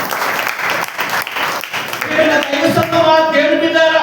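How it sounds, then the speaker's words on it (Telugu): A congregation claps loudly during a Sunday worship service at a church in Kummarigudem: dense, steady applause fills the room, then tonal music and voices rise over the clapping. "గట్టిగా చప్పట్లు కొట్టండమ్మా."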